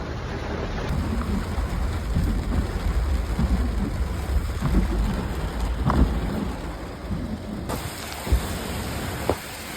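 Heavy rain pours steadily on a car during a food delivery run, a dense continuous wash of drops with a few louder patters and thumps against the vehicle.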